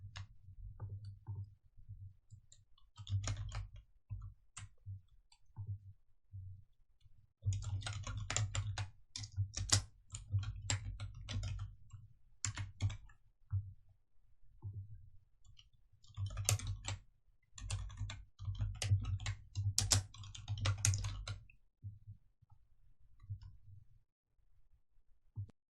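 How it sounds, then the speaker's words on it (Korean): Bursts of rapid computer keyboard typing, entering text into a PowerPoint slide during an ITQ certification lesson; clustered clicks come in several runs separated by short pauses, close and clear, with no talking. "적용 후 내용 타이핑하십니다."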